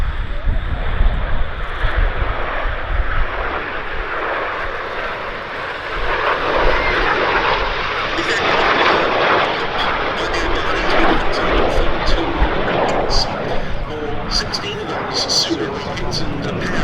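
A pair of BAC Strikemaster jet aircraft make a topside pass at the Duxford summer air show, a loud rushing jet roar swelling and fading across the sky while an announcer talks over it.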